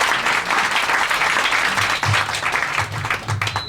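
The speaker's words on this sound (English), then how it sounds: "please join me, give me a big applause to our keynote speaker, Professor Andrew Nathan, please" Audience at a keynote lecture on U.S. policy in Asia bursts into a big round of applause, dense, steady clapping filling the hall for a few seconds, close and loud.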